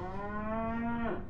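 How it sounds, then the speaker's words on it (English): A cow's long, loud, steady moo in the Sam & Max adventure game The Devil's Playhouse, a single close bellow lasting over a second that drops in pitch at the end. "Max is a cow again."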